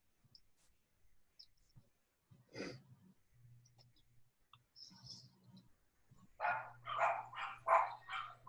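Small yappy dogs, Yorkshire terriers, let out a quick run of high, sharp barks toward the end, after quieter clicks and scattered noises, with faint talk nearby.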